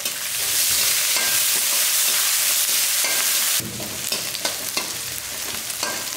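Finely chopped large onion frying in oil while being stirred, for a stir-fried side dish; a loud, dense, continuous sizzle up close with busy scraping and clatter of the spoon.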